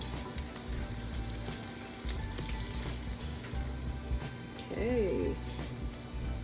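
Salmon croquettes frying in a pan, a steady close crackling sizzle like light rain that runs throughout, with a brief spoken word near the end.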